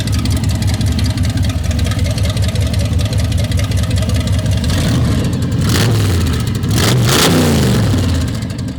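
Big block V8 in a Chevy C10 roars through straight open headers, a loud, close, rough idle that swells into a couple of sharp revs near the end.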